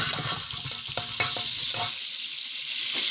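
Onion, garlic and green onion fry in oil and butter for macaroni with meat, with a bright close sizzle and a burst of stirring scrapes and taps before the frying hiss carries on alone.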